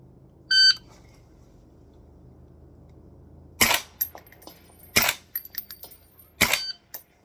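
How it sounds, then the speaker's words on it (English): A short electronic shot-timer beep opens a shooting drill, followed after a pause by three sharp, loud gunshots with ringing tails, spaced about a second or more apart, with no talking. "barely got the third shot off in the 6 seconds"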